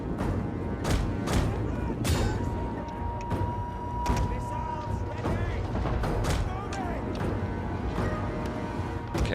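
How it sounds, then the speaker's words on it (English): Artillery fire and flaming projectiles in Attila Total War's Frankish battle, a string of sharp booming impacts at irregular intervals over a constant battle din. "let's do a barrage here"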